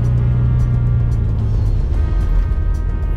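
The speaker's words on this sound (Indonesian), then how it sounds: "Suara yang terdengar itu benar-benar cuma mesin, knalpot, sama kletek-kletek suara interior mobil lama" An old Mini's engine and exhaust drone heard from inside the cabin, a steady low rumble with faint rattles from the worn interior and no voices.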